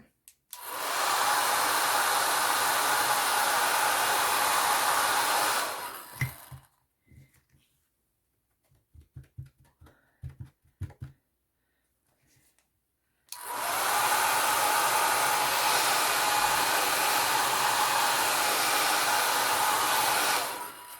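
Hair dryer blowing to dry alcohol ink artwork, a loud close steady whoosh for about six seconds, a pause with light handling clicks and taps, then the dryer running again at full blast.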